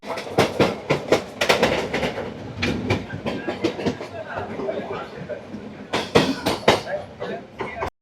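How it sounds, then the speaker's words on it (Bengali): A Padatik Express train runs on the Sealdah to New Jalpaiguri route, heard from inside a crowded general-class coach at dinnertime. A steady rumble and clickety-clack of the wheels continue under frequent nearby chatter. "ট্রেন ছেড়ে দিয়েছে"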